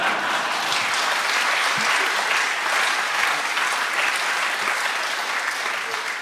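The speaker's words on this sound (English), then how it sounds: "That's almost done, so clapping." A crowd at a summer university ceremony claps in a loud, dense, continuous wash of applause that holds evenly throughout and barely fades at the end.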